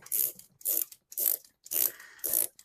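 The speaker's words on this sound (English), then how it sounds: "They fit right into the drill, and I'm going to tighten that down." Ratcheting clicks of a power drill chuck being tightened by hand around a 3D-printed fishing line spool adapter, five short bursts of close, sharp mechanical clatter separated by brief pauses, with no talking.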